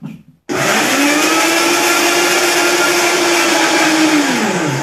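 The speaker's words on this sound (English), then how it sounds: "And we're going to blend." Loud blender whirring steadily as it purees two bananas into vegan nice cream, starting abruptly after a brief clatter, holding a constant motor drone for about four seconds, then winding down, with no talking.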